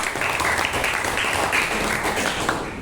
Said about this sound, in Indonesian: Oke, beri tepuk tangan buat Indah.